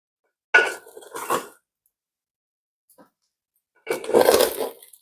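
Pressure cooker pot of pulao shaken by hand, two short rattling bursts followed by a longer one after a pause, close and fairly loud, with no talking.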